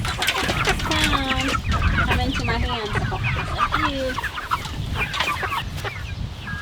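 Backyard meat chickens clucking and squawking close by just before butchering, a busy overlapping flock chorus with a person speaking briefly over it.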